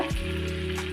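Cinnamon sticks and cloves sizzle steadily in hot oil in a pan for paneer butter masala, a continuous close frying crackle with no voices.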